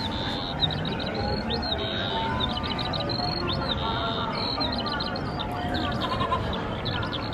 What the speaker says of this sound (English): Oh, we just heard a sheep bleat.